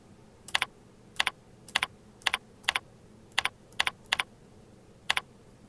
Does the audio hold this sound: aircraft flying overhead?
no